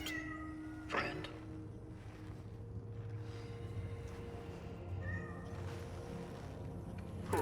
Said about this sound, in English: Oh, hi, kitty. Are you lost, friend?